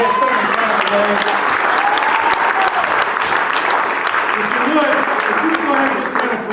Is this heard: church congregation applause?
yes